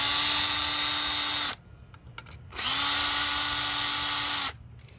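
A power drill with a Torx T25 bit backs screws out of a Toyota Camry window motor. It gives two loud, close whirring bursts of about two seconds each, with a brief click-filled pause between them.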